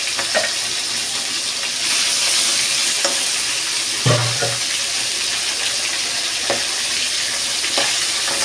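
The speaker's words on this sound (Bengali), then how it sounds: "একে একে বাকি মাছগুলো ভেজে নেব" Fish fry in hot oil with a steady, loud sizzle, broken now and then by soft stirring clinks and light spatters.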